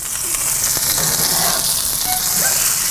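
Burgers searing on a hot Kamado Joe grill give off a steady, loud sizzle throughout, with faint scattered crackles and no voices.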